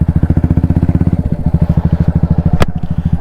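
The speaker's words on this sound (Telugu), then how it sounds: "సైలెన్సర్ విరిగిపోయింది." Motorcycle with a broken silencer running close by, a loud, rapid, even chugging exhaust pulse throughout with a brief sharp crack near the end.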